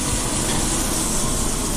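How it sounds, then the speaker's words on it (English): A kitchen hood vent fan runs over the stove with a steady, loud broadband whoosh of rushing air, unchanging and with no talking. "I'm going to go ahead and turn on my hood vents"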